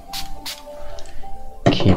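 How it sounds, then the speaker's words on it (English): Two short hissing bursts of water sprayed from a spray bottle onto a watercolor painting of a misty morning, fairly close and soft, followed by faint background sounds and a brief burst of talk at the end. "Let me spray a little bit of water."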